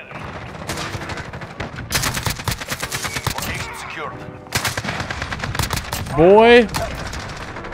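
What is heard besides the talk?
AK-47 gunfire in video game Call of Duty Modern Warfare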